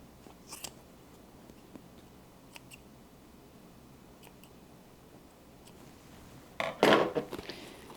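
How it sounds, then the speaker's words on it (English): Scissors snip through fabric at the boxed corners of a bag lining, trimming them back to the seam allowance. A few faint, sparse cuts come first, then a louder cluster of close crunchy snips near the end. "go ahead and cut these boxed corners back to about 1/4 inch seam"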